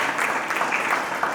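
An audience at a devotional music concert breaks into brief, loud applause, a dense wash of clapping over a short burst.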